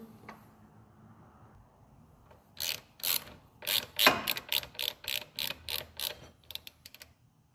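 A hand ratchet clicks in quick bursts while tightening the rear brake bolts on a 1990 Kawasaki ZX7 Ninja, fairly close and alone after a quiet start. No one speaks.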